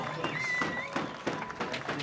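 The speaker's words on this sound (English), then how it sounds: "this Ventura crowd lets him know how much they appreciate his efforts as he's walking off." A crowd at the Ventura X Games skateboard vert competition applauds and cheers steadily beneath an announcer's voice.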